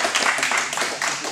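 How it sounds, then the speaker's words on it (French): Close, lively clapping from a small audience at a karate belt-awarding ceremony, with distinct hand claps in uneven bursts over a brief moment. "vous pouvez l'applaudir"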